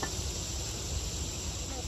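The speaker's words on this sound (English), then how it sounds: "This thing is now packed with bees." Honeybees fill a hive crowded after a big hatch with a dense, steady buzzing hum that holds at an even level throughout, close and continuous with no talking.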